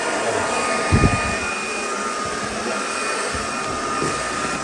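A vacuum cleaner with a self-emptying base runs with a loud, steady suction roar and a faint high whine, close by, with a few brief knocks near the start.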